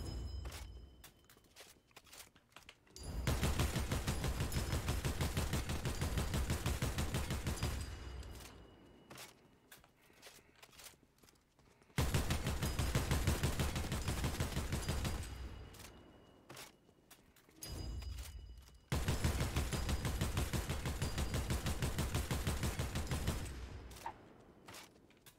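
A flapjack rifle fires in Fortnite Tycoon in long, sustained automatic bursts, loud and close, separated by brief quieter pauses.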